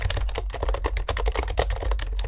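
Fast, steady typing on a Ducky One 2 Mini Pure White keyboard with Silent Red switches, a close, dense run of soft, muted keystrokes with no voices.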